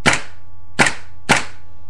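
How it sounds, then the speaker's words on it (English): A KJW M4 gas blowback airsoft rifle fires three semi-automatic shots, each a sharp, loud crack with the bolt cycling, evenly spaced about half a second apart and heard alone at close range. "just shoot it normal first to start, and semi-automatic, just to kind of give you a feel of, the bolt going back and how it sounds"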